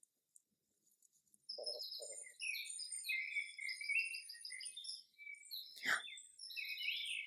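Electronic playback from a garden sound book with a frog, dragonfly, bumblebee, bird and ladybug: high chirping birdsong and insect trills, with a brief low croak and a sharp sweep, fairly quiet and continuous.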